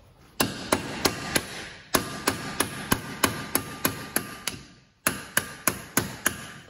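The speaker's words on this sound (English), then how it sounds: "Can't ever go wrong with a hammer." Metal hammer striking repeatedly while knocking a CV axle out of a car's wheel hub, sharp close impacts in quick steady bursts of about a dozen blows, a short pause, then another run of strikes.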